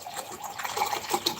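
Water poured or filling a container for drinking, a brief soft gush and splash heard close and fairly quiet, with no talking.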